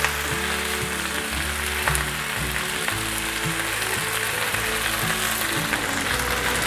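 Eggplant, celery and corn stir-fry in a hot pan with a little water, giving a continuous bright sizzle and hiss under soft background music.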